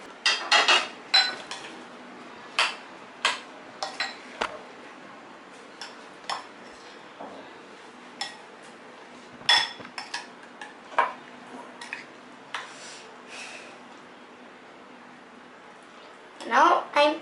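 A spoon clinks and scrapes against a bowl again and again while curd and fruit are mixed for a kids' snack, the sharp taps irregular and close, with a louder burst of clatter near the end.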